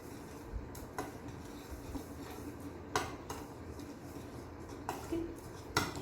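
A utensil stirs dry cake ingredients, flour, baking powder and cocoa powder, in a bowl, making quiet, irregular clinks and scraping strokes roughly every second against a soft room hush.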